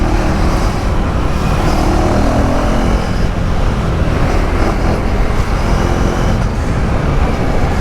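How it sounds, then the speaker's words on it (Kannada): A 2024 KTM Duke 390 is ridden hard with a constant loud, rough engine and wind roar and no breaks, sounding close and full throughout. "ಡ್ಯೂಕ್ 390ನಲ್ಲಿ ಸ್ವಲ್ಪ ಇವಾಗ ಹೈಪರ್ ರೈಡಿಂಗ್ ನೋಡ್ತೀರಾ"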